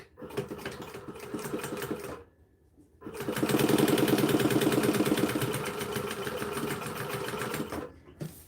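A new sewing machine stitching fabric at a long stitch setting runs in a steady, close, loud mechanical whir with a rapid needle rhythm, pauses briefly for about a second, then resumes for a longer run.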